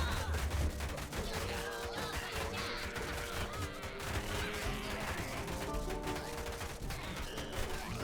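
Dense, continuous automatic gunfire from a machine gun in a strategy video game, crackling steadily across the whole stretch amid a cluttered battle din with scattered crashes.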